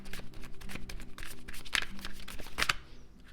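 A deck of tarot cards being shuffled before a reading, giving close, soft riffling and rustling with a couple of sharper snapping flicks near the end, no voices.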